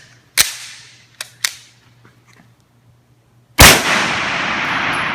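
Suppressed gunshots with 115 grain ammunition: a sharp crack, then two quicker cracks and faint clatter. After a pause comes a much louder, fuller blast whose noisy rumble lingers for over a second.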